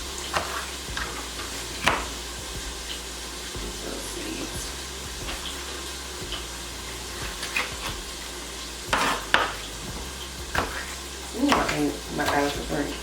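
Breakfast potatoes fry in a pan with a soft, steady sizzle underneath, broken by scraping stirs and clinks of a utensil against the pan, while someone speaks intermittently nearby.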